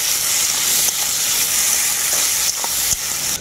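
Chopped tomato and onion sizzling and frying steadily in hot oil, a continuous close hiss with a few faint stirring clicks, no voices.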